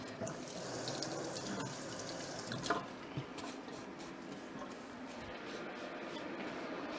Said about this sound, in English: I'll just give my spatula a rinse.